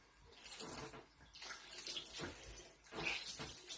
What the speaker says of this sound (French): Je vais rincer les mains.